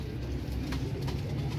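Royal Teddy pigeons coo softly in a short, low, murmuring stretch against steady background noise, faint and continuous without speech.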